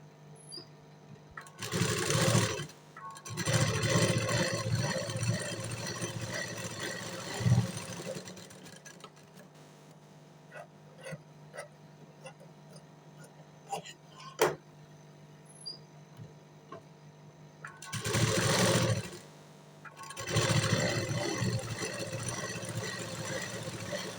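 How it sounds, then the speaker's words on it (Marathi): A sewing machine stitches along both sides of blouse fabric in short bursts, its motor whirring loudly for a couple of seconds, pausing, then running again near the end, with quiet handling noise in between. "त्याला दोन्ही साईडून मी शिलाई मारून घेणार आहे"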